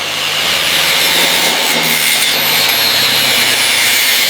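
Rusty metal being cut from a 1967 Camaro Z28, a loud, continuous, close-up power-tool grinding hiss with little variation.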